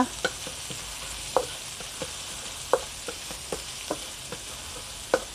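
Chili and garlic stir-fried in a pan for a Thai canned-fish basil stir-fry: a steady sizzle with irregular, close clacks and scrapes of the spatula, and no talking.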